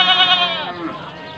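Goats bleating at a livestock market in Panggul, Trenggalek, one loud wavering bleat up close followed by fainter animal calls and market murmur.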